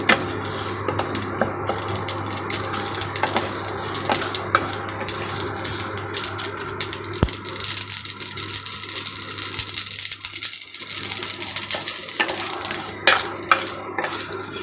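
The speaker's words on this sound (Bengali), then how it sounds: "সর্ষেটা পিটপিট পিটপিট করে ফুটে যাচ্ছে দেখো" Mustard seeds splutter and pop in hot oil in a kadai on an induction stove, a dense crackle of quick ticks with occasional metallic clinks, heard close with no speech.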